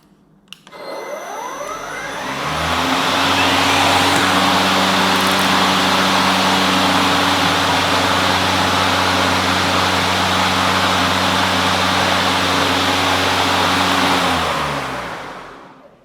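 A John Deere Z370R electric riding mower with its blades switched on, rising quickly to a loud, steady whirring hum with a strong tonal whine, holding for about twelve seconds, then spinning down to silence.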